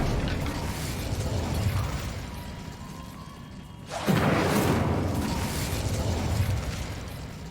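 A fire spell bursts out during play of Hogwarts Legacy: a sudden whooshing pop with a flaring rush midway, after a stretch of low mechanical rumble, then a sustained crackling roar.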